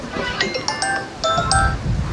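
A phone ringtone chimes repeatedly during a wild honey gathering trip outdoors, with bright melodic tones arriving in short bursts, moderately loud and close, over faint background noise.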